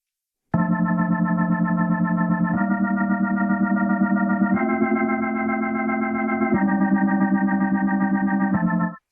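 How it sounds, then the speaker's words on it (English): Yonac Aries rotary speaker effect on a sustained organ-like chord sequence, swirling chorus-like wobble on held chords that change every couple of seconds, loud and steady with no talk. "You can hear the difference when the distance is very close on the drum,"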